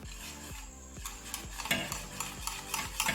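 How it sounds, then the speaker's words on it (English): A whisk beats a seasoned sauce in a bowl until creamy, giving quick rhythmic scraping strokes about every half second, close and fairly quiet, with no voices. "And whisk till they're creamy."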